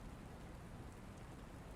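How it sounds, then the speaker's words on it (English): Rain falls at night as a steady, faint hiss of drops, even and unbroken throughout, with no voices or other sounds over it. "There seems to be more rain than usual tonight."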